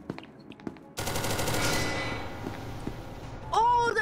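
Rapid automatic gunfire fires at Shy Guy in an SCP video game: a sudden loud burst of shots that trails into echoing rattle, with faint voices before it and a sharp chirping sound at the end.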